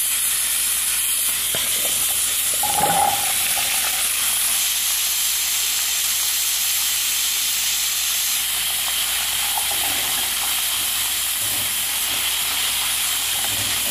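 Steady loud sizzling hiss of sliced garlic frying in a hot pan, continuous throughout with a few faint clinks and no talking.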